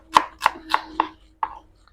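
Knife slicing shallots and garlic on a cutting board, five crisp, close chops in an uneven rhythm, the last after a short pause, with no talking.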